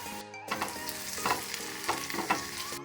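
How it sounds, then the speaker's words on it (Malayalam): Tomatoes fry and sizzle in a pan for an egg curry, with a steady hiss under repeated scraping strokes of a spatula stirring the mixture, close and continuous. "അപ്പോൾ ഇതിൻ്റെ ഒപ്പം നമുക്ക് ടൊമാറ്റോ ഇട്ട് കൊടുക്കാം."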